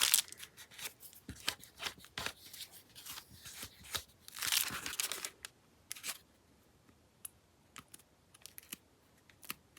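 Scissors trimming paper for a handmade tag book, with a run of crisp snips and rustles early on and then sparser, isolated cuts, close up with no talking.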